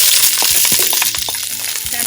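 Allspice sizzles loudly in hot olive oil in a pan for a Jamaican fish escovitch, a close, continuous crackling hiss with a few light clinks of stirring.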